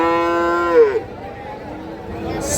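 A cow lets out a single drawn-out moo at a busy rural livestock market in Raniganj, with crowd murmur and background chatter underneath.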